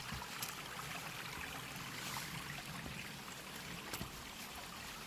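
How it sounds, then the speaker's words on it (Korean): A mountain stream beside a trail on Cheonggyesan rushes and gurgles steadily nearby, a constant wash of flowing water with no voices. "시냇물 소리를 많이 들려드리도록 하겠습니다"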